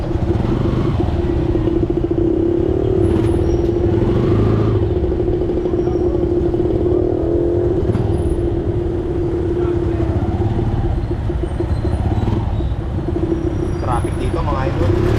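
Dense street traffic of cars, motorcycles and buses surrounds the listener. A constant engine drone carries a steady tonal hum, and passing engines swell and fade with occasional clatter. People talk over the noise throughout.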